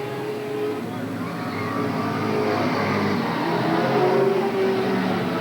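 Race cars in a main event at Willamette Speedway in 1987, a continuous engine roar swelling and fading as the pack circles, moderately loud and distant.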